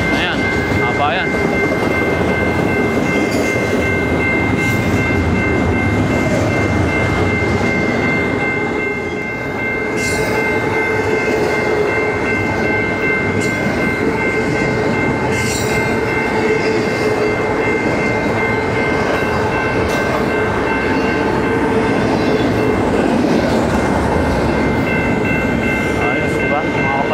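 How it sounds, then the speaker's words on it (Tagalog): Long train rolling past a railroad crossing, a loud continuous rumble and clatter of wheels with a steady ringing crossing bell throughout, heard close up. "Time ko to na nakatayo ako sa railroad crossing na may dumadaan na tren"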